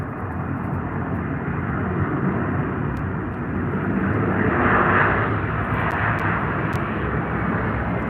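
Airbus A320 airliner landing at Albany International Airport: a steady loud jet engine roar swelling slightly midway, with no talk.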